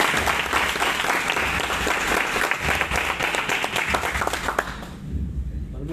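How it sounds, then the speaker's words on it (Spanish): A crowd at a political gathering with Evo Morales in Pilar, Argentina, applauds Bolivian legislators with loud, dense clapping and a few cheers, sustained for about five seconds before fading abruptly. "Un aplauso para ellos."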